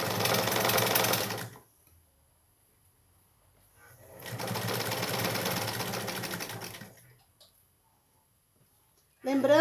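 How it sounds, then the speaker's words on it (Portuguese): A sewing machine stitches fabric in two sustained bursts of rapid mechanical whirring separated by a long quiet pause, with a third burst starting at the very end; the machine sounds close and fairly loud. "Tentem costurar o mais reto possível, porque essa parte vai ficar depois pro lado de fora"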